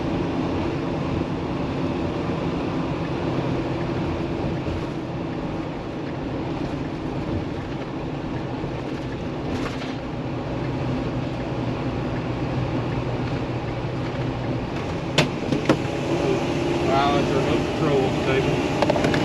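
A 2017 Coachmen Freelander 26RS Class C motorhome with 55K miles cruises on the interstate, its steady engine and road roar filling the cab continuously with occasional rattles, while a person talks over it.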